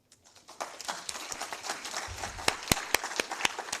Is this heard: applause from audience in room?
yes